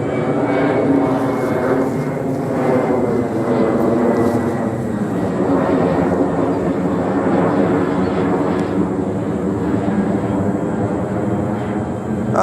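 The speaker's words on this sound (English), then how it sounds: "There's a plane coming." Qantas jet airliner passing overhead, a loud sustained engine roar with a slowly shifting drone that fills the whole stretch, with voices talking beneath it.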